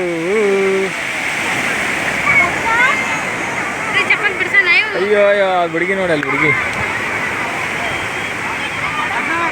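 Sea waves wash steadily onto a beach in Surat, a continuous broadband rush of surf heard close, with a crowd of people talking loudly over it.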